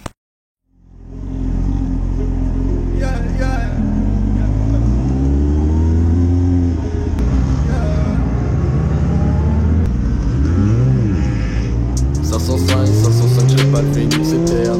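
A racing motorcycle engine on a circuit during a Promosport Découverte track session, revving hard through repeated rising and falling pitch sweeps, loud and continuous for most of the clip.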